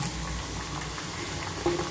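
Sabudana vada deep frying in a pan of hot oil, a steady close bubbling sizzle that runs evenly throughout with no voices.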